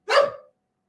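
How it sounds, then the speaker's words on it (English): A dog barks once at the door indoors, a single loud, close, sharp bark that quickly fades into silence. "That would be my dog."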